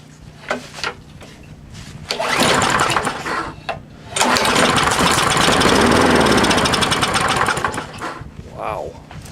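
A small lawnmower engine is pulled over, catches and roars up loudly for a few seconds, drops briefly, then restarts and runs hard and steady before tapering off near the end.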